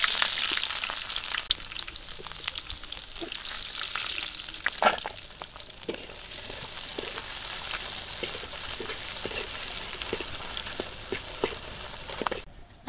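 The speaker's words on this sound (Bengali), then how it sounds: "করলা ভাজি করার জন্য আমি এই জায়গায় পিঁয়াজ কুচি আর কাঁচামরিচ কুচি নিয়ে নিছি দিয়ে দিলাম" Chopped onion and green chili frying in oil for bitter gourd fry, a dense, even crackling sizzle up close that runs the whole time, with scattered pops and a few light clinks of a utensil.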